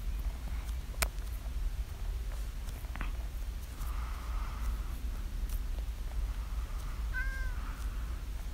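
A pet cat in a video game meows twice, short rising-falling calls spaced a few seconds apart over a low steady background hum, with faint game clicks and no talking.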